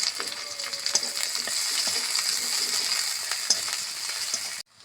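Chopped onions frying in a little oil in a wok with dried red chillies and five-spice seeds, a steady close sizzle with light stirring clicks throughout, cutting off abruptly at the end.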